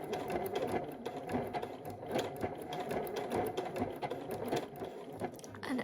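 A sewing machine stitches fabric for a rag quilt, its rapid rhythmic clatter of needle strokes running steadily and close, with the pace wavering slightly as the fabric is guided.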